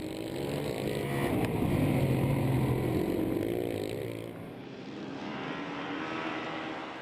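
Motocross motorcycles launch at the start of a seven-lap race at the Scorpion Masters 2011, heard from an onboard camera: a loud, dense engine roar with rising and falling revs that eases slightly midway, then holds steady.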